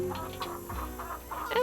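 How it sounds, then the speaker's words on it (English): Chickens cluck in short repeated bursts on a ranch farmyard in the Nancy Drew Secret of Shadow Ranch video game, moderately loud and close against a steady background hum. "the sign told us not to click on the chickens or else we're probably gonna get pecked."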